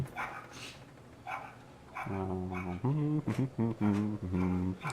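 A dog barks and yips repeatedly in Farming Simulator 15, a run of close, loud barks after quieter whimpering sounds, with people talking alongside.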